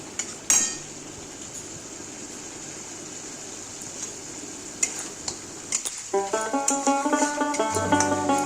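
A spoon stirring poppy seed paste in a pan, with a steady scraping rasp and faint sizzle. Partway through, rhythmic clinks and taps of the utensil against the pan join in, close and fairly loud, with no talking.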